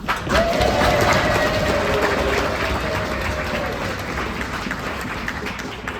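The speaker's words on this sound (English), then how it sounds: "clap your hands, stomp your feet, and give a rowdy cheer" A rowdy outdoor crowd at a Groundhog Day celebration at Sweet Arrow Lake Park in Schuylkill County, Pennsylvania, clapping and cheering in a dense, sustained wash of noise that is loud at first and slowly tapers.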